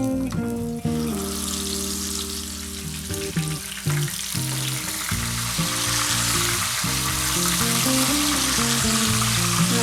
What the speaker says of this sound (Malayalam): നമുക്ക് ഈ മീൻ ഓരോന്നായി എണ്ണയിലേക്ക് ഇട്ട് കൊടുക്കാം.